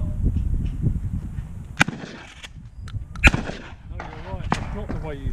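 Shotgun fire at an outdoor shooting range during a French-style sporting clay event, two sharp cracks a second and a half apart over low rumbling background, with people talking in between.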